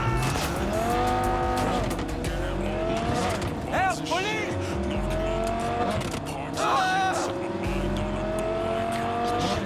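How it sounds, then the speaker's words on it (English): A stolen car in a video game, driven hard with its engine revving up through the gears, tires squealing and skidding several times, loud and continuous, without voices. "Let's steal this car and go on a bit of a joyride."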